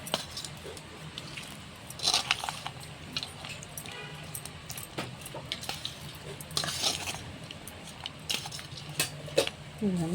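A spoon stirs and scrapes through coconut chutney in a bowl, making irregular close clinks and soft wet mixing sounds.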